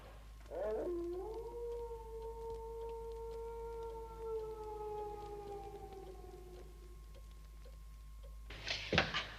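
A lone wolf howl in a forest film scene, one long sustained mournful note gliding slowly downward for several seconds, distant and eerie over a low steady hum, followed by a short burst of rustling noise.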